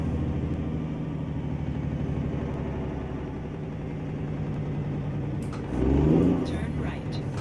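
A Mack B62 truck with a 15-speed twin-stick triplex transmission rumbles steadily while shifting gears, a deep mid-level engine drone heard from inside the cab, with a brief surge near the end.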